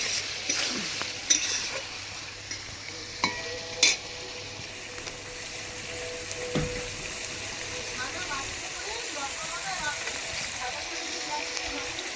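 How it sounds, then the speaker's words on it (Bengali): Sugar being fried in hot oil in a large kadai while cooking jackfruit curry, a quiet, steady sizzle with a few clinks of a spoon against the pan. "চিনিটা ভালো করে ভেজে নিচ্ছি কড়া তেল দিয়ে"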